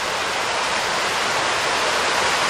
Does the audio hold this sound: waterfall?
yes